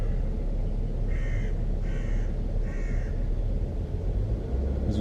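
Three crows caw in distinct bursts, each a short run of harsh calls, at mid-distance over a steady low outdoor rumble near a zoo bear enclosure.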